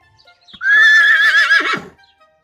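A single horse lets out one loud, clear neigh lasting over a second, close by, with a quiet near-silent background before and after.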